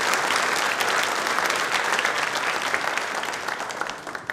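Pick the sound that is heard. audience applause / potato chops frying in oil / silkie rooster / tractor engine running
audience applause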